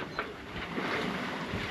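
Wind rushes past as a sailboat moves under sail through water, with soft sloshing and gusty noise against the microphone.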